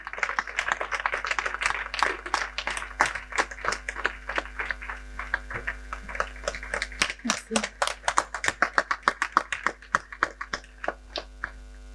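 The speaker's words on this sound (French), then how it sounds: "Je vous demande de l'applaudir." Audience applause at an evening event in Dakar: a smallish crowd clapping in uneven bursts that gather into brisk, sharper, closer claps toward the end.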